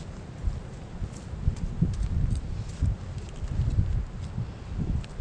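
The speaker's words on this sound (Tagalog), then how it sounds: "Lakas ng hangin dito ngayon." Strong wind gusting outdoors in a garden, a steady low roar rising and falling in gusts that buffet the microphone, with faint rustling and no talk.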